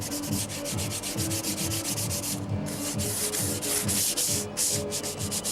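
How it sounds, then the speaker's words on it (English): Dry sandpaper lightly scuffing a wood finish, a steady close rhythmic back-and-forth rasp repeating about twice a second, with no talking. "I keep a piece of dry sandpaper, just to touch it, just fuzz it"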